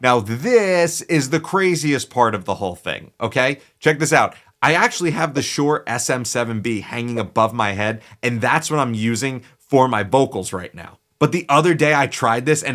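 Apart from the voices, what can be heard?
None of the usual background noises is heard.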